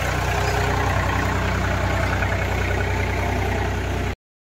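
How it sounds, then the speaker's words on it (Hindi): A tractor engine drones steadily while ploughing a village paddy field for sowing, a loud, close, continuous rumble that stops abruptly. "ट्रैक्टर को किस तरीके से बीहन के लिए जुताई किया जा रहा है"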